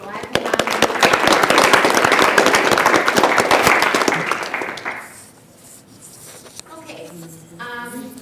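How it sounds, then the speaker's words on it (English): Audience at a community meeting applauding, a loud dense burst of clapping for about five seconds that fades out, followed by a voice speaking. "So let's give them a round of applause."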